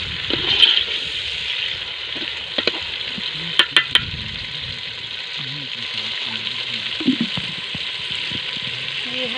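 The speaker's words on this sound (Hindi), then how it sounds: "तड़का लग रहा है।" Onion and tomato frying in ghee for a tadka, a steady hiss and sizzle throughout with a few sharp clinks of a utensil, close by, with faint voices in the background.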